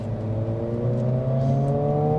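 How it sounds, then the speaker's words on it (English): A 2022 Honda Civic Si accelerates in sport mode, its engine note boosted by artificial sound through the audio system: a steady, rising drone that climbs gradually in pitch, loud and close, with no talking. "the Civic Si uses the audio system to pump in a little artificial noise"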